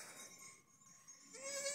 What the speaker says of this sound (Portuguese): Olha esses cabritinhos aqui.